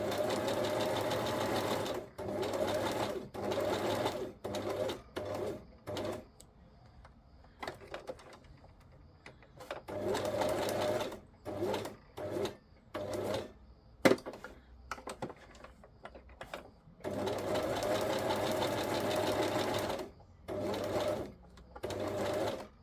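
A sewing machine runs straight stitches in repeated bursts, stopping and starting in a rhythmic clatter with short quiet gaps between runs, close and clear.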